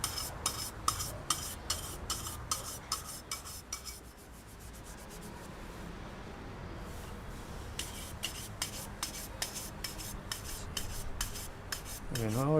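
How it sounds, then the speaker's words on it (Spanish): Wax being brushed onto a smoked ceramic piece at a Guanajuato pottery workshop: steady rasping bristle strokes in a quick rhythm, close and moderately loud, with a continuous scrubbing texture and a brief lull midway. "poner un poco más de cera y cepillar para que la cera agarre un poquito de brillo"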